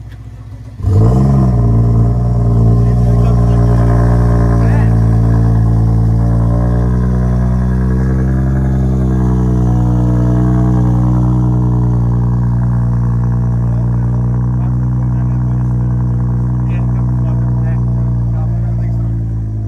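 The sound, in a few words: V8 turbo car engine revving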